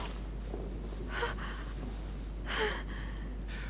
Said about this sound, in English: Her breathing is becoming stable and...